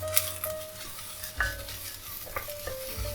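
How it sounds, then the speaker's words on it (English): Onion, carrot and garlic sauté in olive oil in a pan for tomato soup, a soft steady sizzle under brief clinks and scrapes of a utensil stirring, close and moderately quiet, no talking. "we want to saute this onion just a little bit to give it some char"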